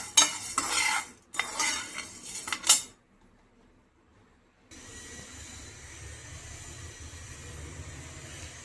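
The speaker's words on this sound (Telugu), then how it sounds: "ఇలా మినపగుళ్ళు శనగపప్పుని కొంచెంగా సిమ్లో పెట్టి డ్రై రోస్ట్ చేయాలి ఫ్రెండ్స్" Urad dal and chana dal dry roasting in a pan over low heat, bursts of a spoon scraping and stirring the dry lentils, a pause, then a steady soft hiss of the pan.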